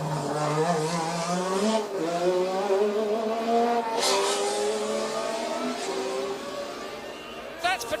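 Formula 1 race cars roar past one after another at the 1982 Detroit Grand Prix, loud engines with rising and falling whining pitch, and a commentator talks over them throughout.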